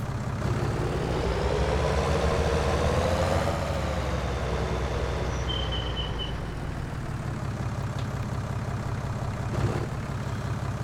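Steady low diesel-type engine drone from a tractor in a farming simulator game, idling continuously and fairly loud throughout with no talk over it; a John Deere tractor is mentioned as an alternative.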